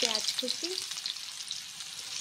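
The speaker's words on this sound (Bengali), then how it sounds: "পেঁয়াজ কুচিটাকে সুন্দর করে ফ্রাই করে নিতে হবে প্রথমে" Chopped onion frying in hot oil in a wok, a steady bright sizzle throughout with a few brief tonal clinks near the start, close and fairly loud, no voices.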